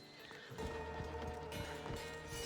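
A horse whinnies loudly while hooves clip-clop at a stable in the video game Assassin's Creed Odyssey, the neigh drawn out over steady hoof falls.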